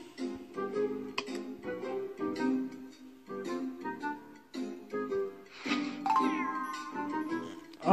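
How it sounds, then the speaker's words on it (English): Cartoonish cat meows from the mobile puzzle game Hello Cats, repeated in short bursts over light chiming game music and tinkling effects, with a rising sweep near the end. "Catch the cat."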